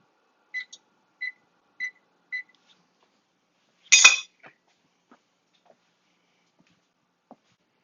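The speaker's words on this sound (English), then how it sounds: "So I'll set the timer maybe for 2 minutes." A kitchen timer set while making naan: four short, evenly spaced electronic beeps, then a sharp clattering click of the timer being handled, followed by a few faint ticks in a quiet room.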